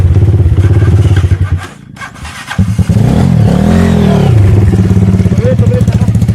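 An enduro motorcycle engine revs loudly and close during a trail ride, dipping briefly before rising again in sustained, throaty revving, while people talk over it.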